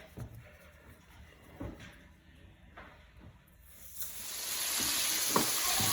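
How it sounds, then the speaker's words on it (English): Flour-coated chicken for salt and pepper chicken sizzles as it drops into hot oil, a soft crackle building into a loud, steady fry with occasional clinks of utensils nearby. "you just start to fry then"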